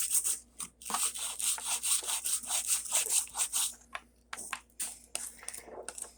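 Close, rapid back-and-forth strokes of hand sanding smooth imperfections on an O scale model kitbash, rhythmic and steady with brief pauses and no talking.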